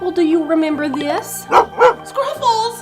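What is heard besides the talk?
dog barking, cartoon dog Scruffles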